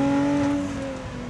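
Supercharged 3.5-litre V6 of a Lotus Exige Sport 410 in race mode, a loud sustained droning engine note with strong steady tones that eases off slightly toward the end, heard briefly with no talk.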